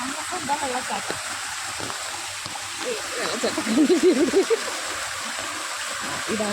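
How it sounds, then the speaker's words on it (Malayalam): Seasonal waterfall that flows only in rain, right beside a house, gives a steady close rush of falling water throughout, with a voice briefly rising over it midway. "മഴ വരുമ്പോൾ മാത്രം വരുന്ന വെള്ളച്ചാട്ടം"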